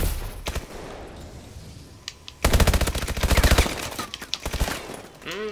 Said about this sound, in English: Damn, man kept shooting.